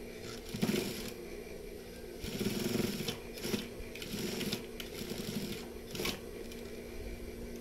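A sewing machine stitches a seam on a koko shirt in short runs of whirring, clattering mechanism with brief pauses between bursts, close and moderately quiet, with no voices.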